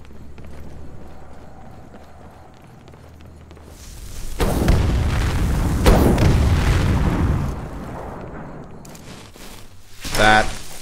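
Explosion in Skyrim: after quiet game ambience with a low hum, a loud rumbling boom swells and rolls for a few seconds, then decays, followed by a short burst of clattering impacts near the end.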